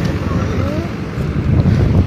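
An engine-powered fishing boat approaches across the water near Navi Mumbai in the monsoon season, its low engine rumble heard under heavy wind buffeting on the microphone.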